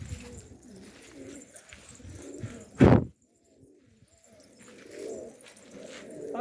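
A Bango güllü pigeon gives a short, loud coo partway through, set against quieter background sounds and faint bird noises.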